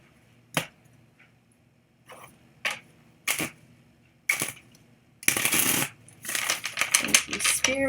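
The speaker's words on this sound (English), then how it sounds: "we're going to do a couple more shuffles" Tarot cards are shuffled by hand in a few quick separate riffles and taps, each a short crisp flutter, ending in a longer burst of rapid riffling near the close.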